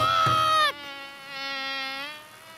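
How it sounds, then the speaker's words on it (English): A cartoon buzzy bee sound in a children's noise game, a sustained, close buzzing drone with steady harmonics that dips after a brief louder onset and then carries on alone for about two seconds. "I can hear another noise. It's a buzzy bee."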